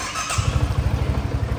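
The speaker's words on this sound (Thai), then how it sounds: "เดี๋ยวสตาร์ทให้ฟังเสียงเครื่องยนต์กันดูนะครับ" A 2019 BMW C400X scooter engine cranks and catches, settling into a fast, steady, throbbing idle that is close and loud, with no talking.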